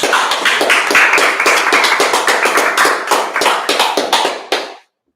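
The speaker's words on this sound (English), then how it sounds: "Alright, clap it up." A group of men at an evening brotherhood gathering in Durham, North Carolina claps in quick, uneven bursts, loud and close, building steadily before stopping abruptly, with no talk over it.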